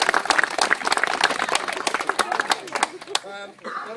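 Competitors clapping at a UK Rhino Charge off-road prize giving in 2013: dense, rapid handclaps from a group for about three seconds, then fading as a voice speaks.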